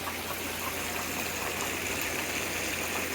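Hot tub jets pump water through the spa during a purge cleaner run, making a continuous loud rushing, gushing wash over a low motor hum with no pauses.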